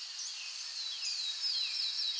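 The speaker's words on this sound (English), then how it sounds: "Little birds." Little bird chirps and twittering calls used as atmospheric ear candy layered into a house music track, a faint, continuous stream of high tweets and short whistling glides with no talk.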